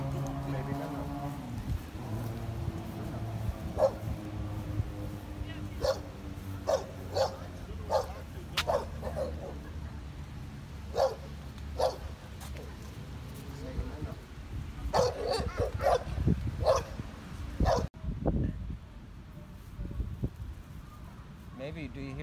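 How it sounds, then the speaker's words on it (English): Seals bark repeatedly along the California coast, a string of sharp, short yelps at uneven intervals over wind and a low rumble, moderately near, with people talking at times. "Do you hear the seals? Do you hear the seals, baby?"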